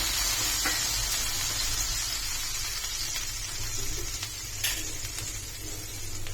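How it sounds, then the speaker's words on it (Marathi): Water sprinkled onto a hot tava griddle gives a steady, close sizzling hiss that holds for several seconds, with a few faint clinks along the way. "तवा तापलेला आहे यावर आपण असं पाणी टाकून घेऊया"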